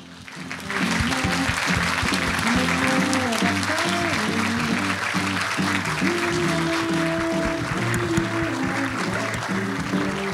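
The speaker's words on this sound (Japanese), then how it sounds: "それでは大きな拍手でお迎えください。" Audience applause greeting a film cast and director at a stage event, dense sustained clapping from a crowd, with faint music underneath throughout.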